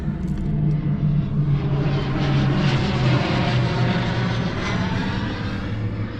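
An old Mercedes-Benz engine runs on a jump box, giving a steady, loud, close rumble with a low droning hum that holds throughout with no talk.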